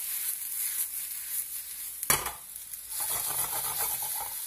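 Shrimp with garlic and cherry tomatoes sizzling in a frying pan while being gently stirred, a steady crackle with one sharp utensil scrape against the pan partway through.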